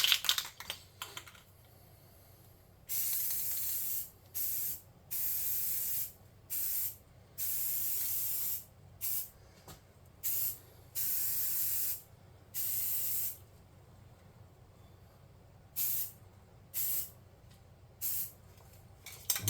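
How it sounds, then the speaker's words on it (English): A spray can hisses in a series of bursts, short and longer blasts separated by pauses, close and sharp against a quiet background. "Spray paint it black,"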